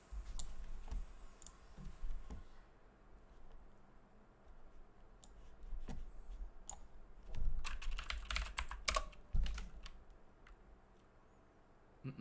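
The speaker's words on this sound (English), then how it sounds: "That's someone typing a second ago." Someone types on a computer keyboard somewhere in the room, producing sparse bursts of clicking keystrokes over a low background hum, with the densest flurry of keys a few seconds before the end.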